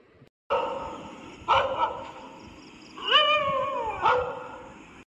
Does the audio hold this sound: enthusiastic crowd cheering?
no